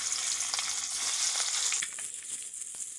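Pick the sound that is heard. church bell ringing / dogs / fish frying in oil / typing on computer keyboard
fish frying in oil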